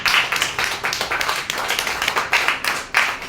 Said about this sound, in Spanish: ¿Cuántos le pueden dar un aplauso al Señor Jesús,